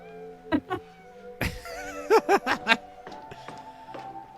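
A cat in the film The Worst Witch lets out several short meows, one pair early and then a quick cluster of plaintive cries, over a faint, steady tonal background.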